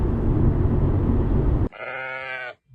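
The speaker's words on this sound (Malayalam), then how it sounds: "കുറേ ആടുകളൊക്കെ ഇങ്ങനെ ഇവിടെ മെയ്യുന്ന കണ്ടപ്പോഴേക്കും" Grazing sheep in the Irish countryside: one close, clear bleat rings out for almost a second, right after a stretch of loud rushing wind or road noise cuts off.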